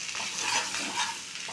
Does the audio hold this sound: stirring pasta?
yes